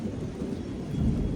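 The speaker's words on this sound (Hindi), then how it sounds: "बारिश हो रही है" Steady outdoor rain mixed with low rolling thunder, a continuous dense rumble with no pauses, moderately loud and close.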